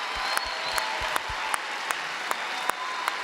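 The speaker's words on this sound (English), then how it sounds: "let's clap for them and show them how much we love them" Chapel audience clapping for the freshman class, with evenly spaced, distinct claps in a steady rhythm over a continuous background hiss.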